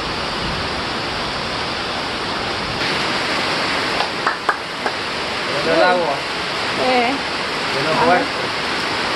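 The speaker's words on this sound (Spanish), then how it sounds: "Se los lleva el viento para ir para acá." Hurricane Jimena wind and rain pour down in a steady, rushing wash, with a few scattered voices speaking briefly over the downpour.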